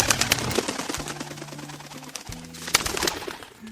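A pigeon hen coos in a low, repeated burst of soft throaty notes, close by, with faint rustling and other bird sounds around it and no talking.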